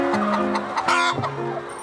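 Free-range hens on a small farm, clucking close by in a short run of a few clear, rhythmic calls with faint rustling behind them.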